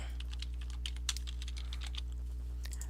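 Typing on a computer keyboard, a quick irregular run of light key clicks over a steady low electrical hum, close and quiet, with no talking.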